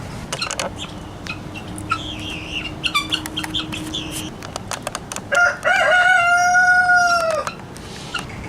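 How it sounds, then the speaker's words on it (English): Outdoor guinea hens calling: scattered clucks and chirps, then a long drawn-out crowing-style cry near the end, fairly close and loud. "take a look at some guinea hens. Aren't they weird?"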